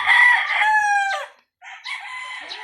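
A nine-month-old straight 5K Sweater gamefowl rooster crows loudly and close by, one long harmonic crow that breaks off, followed after a short pause by a second shorter, rougher call.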